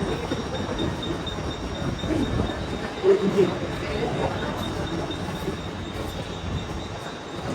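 A train rumbles past with a continuous heavy roar of wheels on rails, a brief metallic squeal rising partway through.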